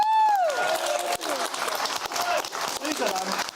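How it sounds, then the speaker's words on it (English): Studio audience applause and cheering welcome a guest on a live talk show. It begins under a fading tonal sting and is mixed with crowd noise and some overlapping speech. "Big round of applause."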